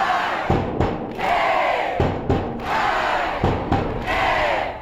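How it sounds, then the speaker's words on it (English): A big crowd roars at a high school football game featuring the defending state champions, with loud rhythmic chanting bursts broken by sharp thumps, near and continuous. "The defending state champs get a big entrance and a big crowd at the big game."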